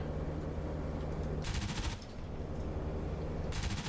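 Gunfire aimed at an aircraft in the DCS flight simulator over Caen, France in 1944: two short rattling bursts of automatic fire over a steady engine drone, moderately distant.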